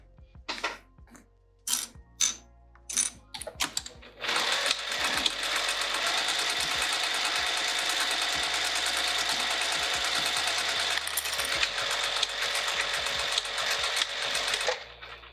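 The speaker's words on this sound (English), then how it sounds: "Now I'm going to sew right up the middle to divide this pocket in half." A sewing machine stitches straight up the middle of a pouch pocket to divide it, starting with a few short clicky bursts and then settling into a long, steady, close mechanical whir that runs almost to the end.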